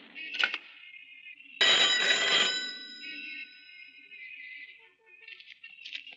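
A telephone rings in a 1994 Marathi film scene, a loud bright bell burst after a short chirp, followed by fainter repeated rings.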